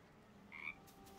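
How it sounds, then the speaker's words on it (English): A cartoonish frog in Baldur's Gate 3 gives a single bright, pleased croak, a short tonal call in the middle over a low steady game ambience. "The frog croaks loudly, pleased."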